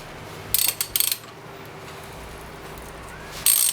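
Metal bolt being threaded in while fitting a hand guard to a Yamaha WR250R dirt bike, heard as two short bursts of bright ratcheting clicks near the start and another brief burst at the end, close and fairly loud over quiet room tone.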